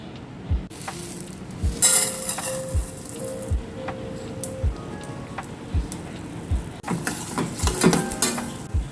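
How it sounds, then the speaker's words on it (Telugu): Lentils fry in hot oil in a kadai while coriander chutney is made, a soft steady sizzle under repeated close scrapes and taps of a spoon against the pan, with no talk. "కడాయిలో నూనె వేడి చేసుకుని ఈ పప్పులన్నీ వేగించేసుకుందాం"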